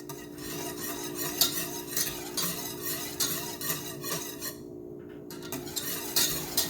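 Milk being stirred in a pot as it boils down toward condensed milk, a spoon scraping the bottom in continuous rhythmic sweeps over a constant bubbling hiss, close and steady, with no talking.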